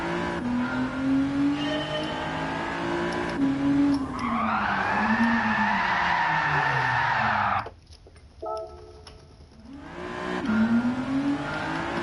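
A Gran Turismo 7 race car is yanked into a handbrake skid, its engine droning under a long, loud tire squeal that wails for several seconds, then drops out briefly before the engine revs back in.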